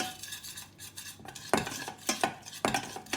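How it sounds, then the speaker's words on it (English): Spoonful of flour stirred into melting butter in a pan on a stovetop to make a roux for a smoked haddock fish pie, with repeated scraping strokes of a utensil against the pan and a faint sizzle beneath. "Stir it round until it makes a paste."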